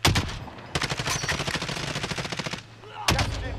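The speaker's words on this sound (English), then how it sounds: "Someone shot that team on the right." Rapid automatic gunfire in Call of Duty Warzone, dense bursts of rattling shots that pause briefly and then resume with a sharp final volley.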